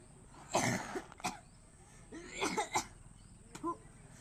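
A few quiet, separate coughs, with a short pause between each one.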